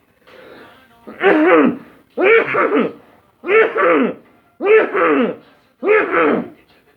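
A person coughs five or six times close by, in evenly spaced bursts, each a short rough hack with silence between.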